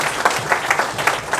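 An audience at a lecture applauds, a dense, fairly loud burst of clapping that continues without a break.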